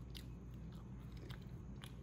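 Crisp bites into a fried donut from a New Jersey donut shop, several crunchy chomps and chewing close to the mic, with no talking.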